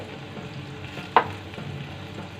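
Ginger-garlic paste and turmeric powder fry in oil in a pan with a low, even sizzle, broken midway by one sharp scrape or clink of a spoon against the metal.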